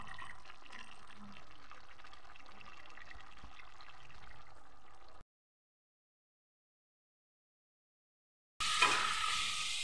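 Mutton pieces fry in oil with a soft, even sizzle that runs steadily for about five seconds. A silent gap follows, then a louder, brighter hiss bursts in near the end.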